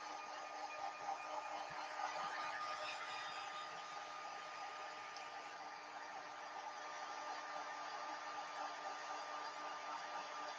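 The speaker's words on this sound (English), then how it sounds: "This is the only use I know of for a hair dryer." A hair dryer blows continuously with a steady whooshing hum and faint whine, fairly quiet and unchanging throughout, no voices.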